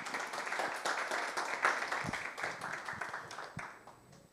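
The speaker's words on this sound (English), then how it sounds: "Let's give them a round of applause, man." Audience clapping for volunteers called to the front at a business clinic event, a moderate, steady patter of hands filling the room and tapering off toward the end.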